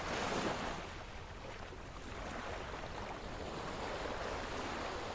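Ocean waves roll in and wash back out in a steady, continuous surf, broad and fairly close, with wind noise mixed in and no voices.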